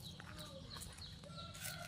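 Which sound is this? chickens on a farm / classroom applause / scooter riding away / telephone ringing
chickens on a farm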